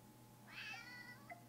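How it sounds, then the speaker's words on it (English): A single cat meows in the Animal Crossing Pocket Camp game, one clear, drawn-out call over a quiet, steady background hum, followed by a short faint chirp. "You guys recognize that meow?"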